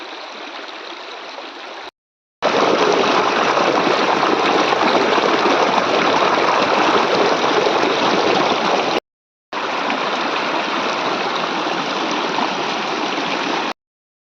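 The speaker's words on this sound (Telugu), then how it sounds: "అడవి ఊట వాటర్ కదిలిందండి." Rainwater rushing down from the forested Lankamala hills as a stream, a loud, steady roar of flowing water, close up, broken by two short silent gaps.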